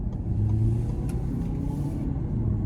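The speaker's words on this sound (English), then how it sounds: "Now we'll give it some throttle here." Under light throttle, a 2023 Lincoln Nautilus with the 2.0T engine gives a low, steady, subdued hum from inside the cabin, without speech.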